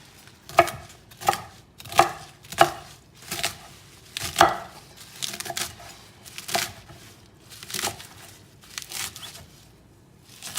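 Kale ends being chopped off with a knife, about a dozen crisp, evenly spaced cuts that sound close and fairly loud, with no talking.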